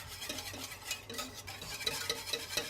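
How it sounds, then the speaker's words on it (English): A whisk stirs white sauce in a pan, smoothing out lumps for a mushroom pasta bake; light, fast scraping and clinking against the pan runs steadily throughout, close up with no talking. "Using the whisk to help you get out any remaining lumps."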